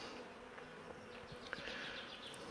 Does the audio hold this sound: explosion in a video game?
no